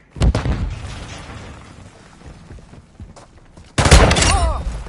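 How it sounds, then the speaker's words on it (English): A stun grenade goes off in a Call of Duty match with a loud sharp bang early on. Gunfire and game noise follow, then another loud burst. "Throwing a stun grenade."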